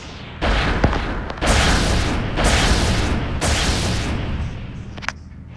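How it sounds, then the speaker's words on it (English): Loud crackling electric blasts of a lightning strike attack in the game Battle Cats come in three broad bursts, each a harsh roar lasting about a second, with sharp pops between them. "A lightning strike enemies 3 times stronger than the cat cannon."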